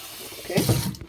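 Boiled water is poured off a pot of saltfish in a short splashing gush lasting under a second, close by in a kitchen.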